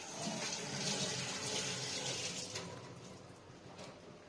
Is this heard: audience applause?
no